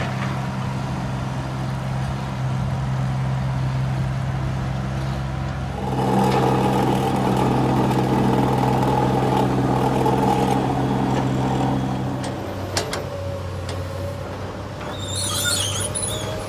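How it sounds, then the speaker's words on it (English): A small dirt compactor machine working around a house build site, a steady engine drone that grows louder and rougher midway before easing off, heard from a moderate distance with no talking. "this little machine back here will drive around the property and compact the dirt."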